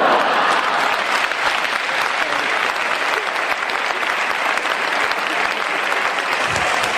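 An audience at a comedy duel gives a comedian sustained applause: a dense, steady roar of many hands clapping at once, loud and unbroken throughout with no voices over it.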